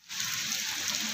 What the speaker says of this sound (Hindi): ये देखिए अभी बस बड़ी तेज़ बारिश हो रही है